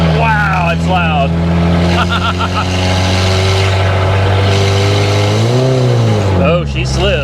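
A Hyundai Tiburon engine revs loudly while the car drives, a steady sustained roar with a rising, swooping pitch near the end, and people talk over it.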